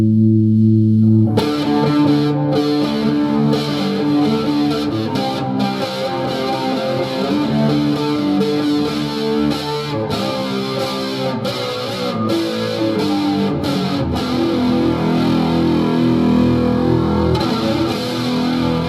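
Electric guitar through a Marshall MG100HDFX head amp with the gain turned up churns out a dense, heavily distorted riff of chugging chords, loud and continuous after a brief lower-gain opening note.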